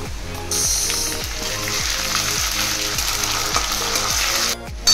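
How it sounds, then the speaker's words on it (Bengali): Ginger and already-fried onions spit and sizzle in hot oil, a loud, close, steady crackle that starts abruptly and cuts off near the end, over a regular low hum. "পেঁয়াজ ভাজা হয়ে গেছে, দিয়ে দিলাম 1 চামচ মতো আদা।"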